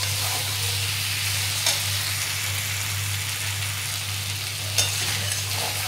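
Chicken sizzles steadily while being stirred and sautéed in a pan, a dense, even crackle of frying with occasional soft scrapes of the spoon, close and continuous, with no voices.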